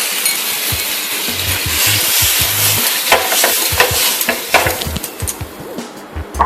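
Water is sprinkled over a hot dosa pan to clean it between dosas, giving a loud, close sizzle and hiss with scraping and wiping knocks that fade toward the end.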